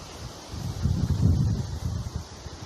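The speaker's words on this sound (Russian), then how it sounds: "шумят деревья, ветер такой мощный" Strong wind gusts through village trees, including a bird cherry, building into a rough rustling surge that peaks and then eases, with heavy buffeting close to the microphone.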